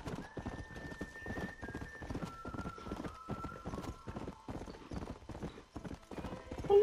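In the Red Dead Redemption video game, a horse's hooves clip-clop in a steady, even rhythm close by, joined by a drawn-out whinny.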